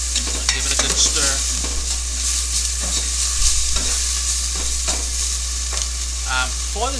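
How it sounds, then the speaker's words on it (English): Trini corn soup in a pot being stirred after fresh black pepper goes in: soft scraping and bubbling sounds spread throughout, over a steady low hum and broadband hiss, with no voices. "Give it a good stir."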